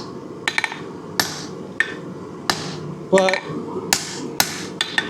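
Hand-forged hunter knife blade hammered on an anvil: a string of sharp, ringing metallic strikes at an irregular pace, with one heavier flurry of rapid blows midway, heard close up with a brief spoken word.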